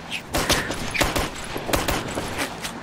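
Gunfire in the military shooter Operation Flashpoint: Red River, a rapid irregular volley of sharp rifle shots cracking near and far in quick bursts.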